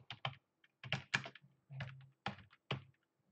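Quick clicks of keys on a computer keyboard in short, irregular bursts, close and fairly quiet, with no talk.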